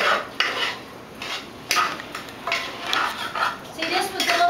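A utensil stirs seasoning into a small cooking pot, making a quick series of scraping, clinking strokes at close range.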